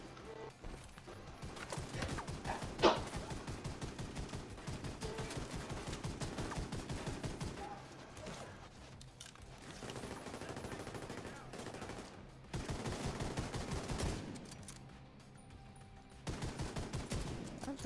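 Video-game gunfire in Tom Clancy's The Division 2, Warlords of New York: repeated bursts of rapid automatic shots come in long stretches with brief pauses, fairly faint overall.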